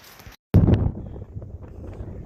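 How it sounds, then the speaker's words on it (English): Gusty wind on the Roaches hills buffets the microphone in heavy, rumbling bursts, cutting out briefly before roaring back and then settling into a steady blustery rush. "it's very blowy and windy"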